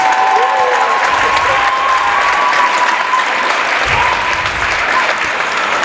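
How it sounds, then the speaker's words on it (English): Audience at a high school boys' basketball senior night in a gym breaking into loud sustained applause and cheering, the crowd noise filling the space throughout. "How about a big round of applause?"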